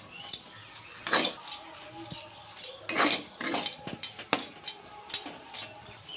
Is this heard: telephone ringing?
no